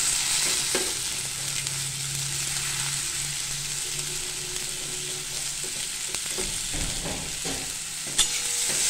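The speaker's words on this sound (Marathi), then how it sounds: "ही पण शेंग आपल्याला तेलामध्ये आणि लसूण खोबऱ्यामध्ये परतवून घ्यायची" Cluster beans sautéing in oil with garlic and coconut crackle in a steady close sizzle, with occasional stirring scrapes and clinks of a spatula against the pan.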